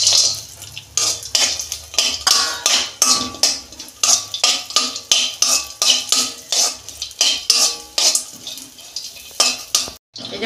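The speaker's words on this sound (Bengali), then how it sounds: "এই যে কাজু কিশমিশটা আমি একটু ভেজে নেব গিয়ে।" Cashews and raisins frying in a pan for semolina halwa, heard as a rapid series of close scraping and clinking stirs against the pan over a faint sizzle, with no voices.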